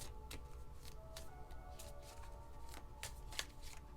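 Tarot cards riffle and slap together in faint, repeated shuffling bursts at close range, each crisp papery flutter spaced out in an irregular rhythm over a quiet room hum.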